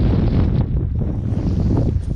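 Strong wind buffets the microphone on an outdoor March fishing trip, a loud, steady roaring rumble with gusty surges throughout and no talking.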